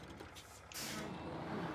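A truck's air handbrake releasing in a driving video game, a sudden loud broadband air hiss that bursts in after a quieter engine rumble and holds steady to the end.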